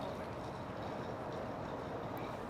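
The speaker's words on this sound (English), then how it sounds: "airport-bound rail train to roll by" An airport-bound rail train in downtown Toronto rumbles past with a dense, rhythmic clatter of wheels on rails, fairly faint and steady throughout.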